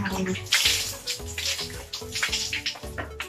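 Water is poured over a bather's head, sending repeated splashing gushes in close, uneven bursts over a steady tonal hum in the background.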